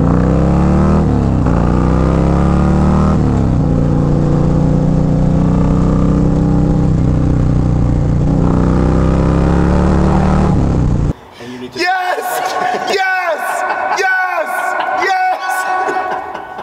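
A Harley-Davidson performance bagger motorcycle revs loudly and pulls away with a deep rumbling engine note that rises and falls, then cuts off as people talk nearby.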